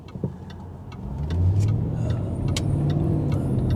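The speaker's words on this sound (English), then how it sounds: "you just have a subtle change in the exhaust where it just slightly allows a little bit more of that V8 rumble to come through" A Jaguar XK X150 V8 with a modified exhaust pulls away gently, its low exhaust rumble swelling and holding steady at close range, with faint clicks and road noise over it.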